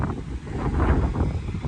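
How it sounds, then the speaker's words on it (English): Wind buffeting an outdoor microphone beside a Can-Am X3 Turbo R side-by-side, a steady low rumble that swells and eases without a break, with no voices over it. "Sorry about the wind. It's a bit windy out here."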